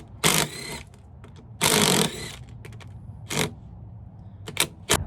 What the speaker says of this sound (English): Now we're going to take these bolts out,